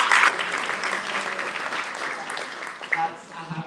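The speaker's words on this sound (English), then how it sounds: "another round of applause" Applause from an audience at a startup pitch weekend, a short burst of clapping that starts strongest and tapers off over a few seconds.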